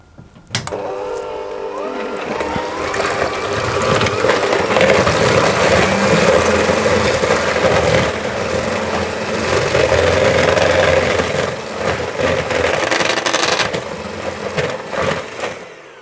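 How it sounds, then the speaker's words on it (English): An electric hand mixer whisks cake mixture for mini mincemeat Christmas cakes. A steady motor whir with a rattling drone starts abruptly and holds loud and close for most of the stretch before cutting off at the end. "whisk those with my hand mixer to get those nicely combined"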